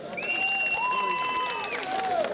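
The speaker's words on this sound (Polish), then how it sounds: "oklaski mogą być" Applause from an outdoor crowd at a harvest festival award ceremony, a soft steady patter of clapping under a sustained tonal sound that dips in pitch near the end.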